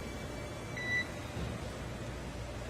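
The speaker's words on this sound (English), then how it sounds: "you'll be hearing those very characteristic beeps" Short electronic beeps from a SpaceX Dragon spacecraft radio link during a crewed NASA launch, a faint tone or two near the middle standing over steady static hiss and low rumble.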